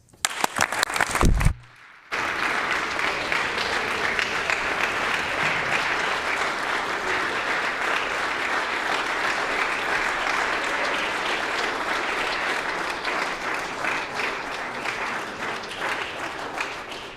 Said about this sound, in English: Please join me in applauding and congratulating these St. Vital champions.